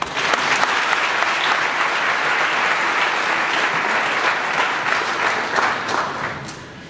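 Steady, loud applause from an audience at an opposition political gathering, dense clapping holding for several seconds before tapering slightly at the end.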